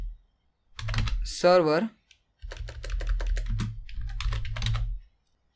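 Clicks from a computer keyboard being typed on sound lightly beneath a voice as he talks.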